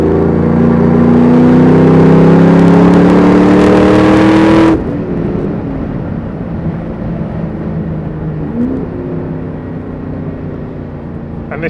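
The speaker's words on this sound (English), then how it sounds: "this is what's addictive about owning one of these LS3s, is this noise" A Land Rover Defender 110 with a swapped LS3 V8 revs hard and loud up close for several seconds, then cuts abruptly to a lower idle rumble with a brief blip before the end.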